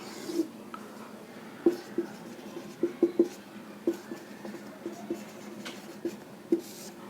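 Pen writing on a page, a series of light scratchy taps and strokes spaced irregularly, close and quiet with no talking.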